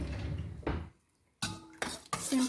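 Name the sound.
stirring kombucha in a glass container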